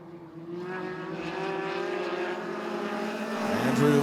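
USAC Eastern midget race cars at Ace Speedway accelerate off the green flag, a pack of high-pitched engines whining and rising together, growing louder toward the end.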